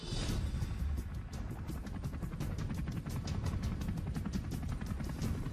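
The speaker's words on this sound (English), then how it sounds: "The helicopter coming." A steady, loud rotor thrum with rapid rhythmic chopping pulses, like a helicopter nearby, continuous throughout with no voices.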